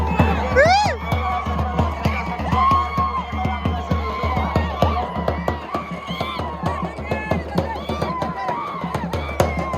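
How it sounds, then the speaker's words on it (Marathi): A crowd celebrates after a bullock cart race, a loud continuous din of shouting voices with rhythmic drumbeats pounding throughout and occasional whistles, with talk mixed in. "आणखी जल्लोष चालूच आहे तिकडे"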